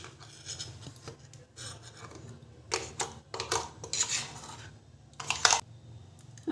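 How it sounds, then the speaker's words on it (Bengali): Thick chickpea and peanut chutney paste is scraped and poured from a grinder jar into a bowl, with soft intermittent scraping and clinks of metal, fairly quiet and close, with no talking. "এরপর আমি একটা বাটিতে ঢেলে নেব।"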